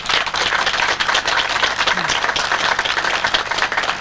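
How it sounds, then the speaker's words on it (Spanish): Applause from an audience at an outdoor Día del Agua celebration in Llano de la Pez, 1997, a steady dense clapping that fills the whole stretch at close range, with no speech standing out over it. "un fuerte aplauso para él, por favor."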